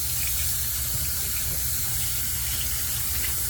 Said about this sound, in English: Get this tub rinsed out.